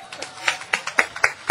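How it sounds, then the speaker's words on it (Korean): A few people clap at a memorial cultural event for the second anniversary of Roh Moo-hyun's death: about eight sharp, separate handclaps in an uneven rhythm, close and moderately loud. "박수!"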